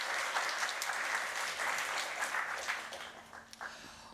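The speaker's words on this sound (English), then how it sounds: "One more round of applause for Christian Hertzog." Applause from the audience at a toy piano festival in a library hall, a dense wash of many hands that stays fairly even and moderately distant before thinning slightly near the end.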